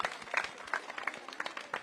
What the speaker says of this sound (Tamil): அவங்கள ஒரு பெரிய கைத்தட்டலோட வெல்கம் பண்ணலாம்